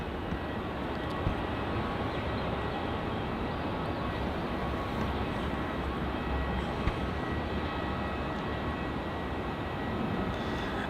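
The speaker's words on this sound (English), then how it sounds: "Coming in now, we have Virgin Australia flight VA826 from Sydney." Virgin Australia flight VA826 from Sydney comes in to land at Melbourne Airport, its engine roar broad and steady at a moderate distance for the whole stretch, with no talk over it.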